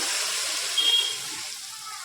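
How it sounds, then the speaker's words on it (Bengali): Water poured into hot, well-fried spiced masala for a hilsa fish curry gives a brief, loud hissing rush that settles into a steady sizzle, with no talking. "এবার দিয়ে দিচ্ছি পরিমাণ মতো জল।"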